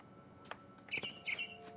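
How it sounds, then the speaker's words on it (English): Small bird chirps in the game What Remains of Edith Finch: a few short, bright tweets and a quick call pair, faint and fairly distant over a quiet ambient background, with no talk. "Oh, bird's down there."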